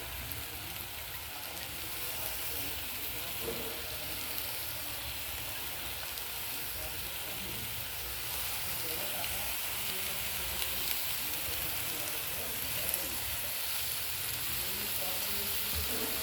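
Dried jawla fish (sukat) dropped into a kokum tempering in Kokani style, a continuous soft sizzle and frying hiss that stays even throughout with faint stirring and no voices.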